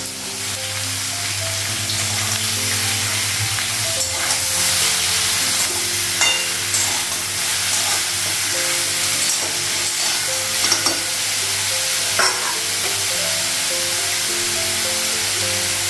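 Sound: frying potatoes and pointed gourd in a pan

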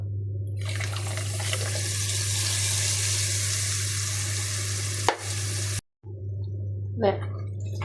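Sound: ground coconut paste poured into fish curry and stirred in pan

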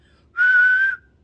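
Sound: person whistling

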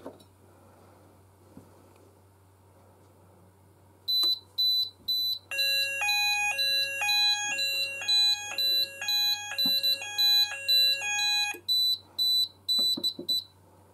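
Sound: fire alarm sounders

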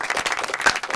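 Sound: audience applause

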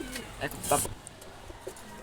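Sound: pigeon released from hand, cooing

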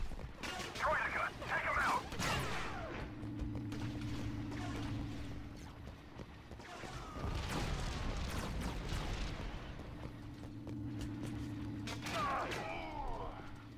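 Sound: gunfire in Star Wars Battlefront 2 (video game)

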